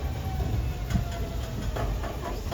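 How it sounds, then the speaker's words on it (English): A Bronx Zoo Wild Asia monorail train slowing to a stop, a steady low rumble and hiss with faint rail clatter, heard close from on board with no talking. "I do need to stop the train here for just a little while"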